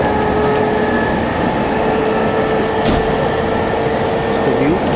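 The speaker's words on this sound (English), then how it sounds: "I've resumed my train journey from Bursted to Canterbury West." Inside a train travelling through countryside toward Canterbury West, a steady loud rumble of wheels and carriage noise fills the space, with a constant hum and faint squeals and clanks.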